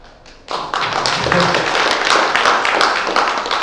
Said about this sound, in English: clapping है यार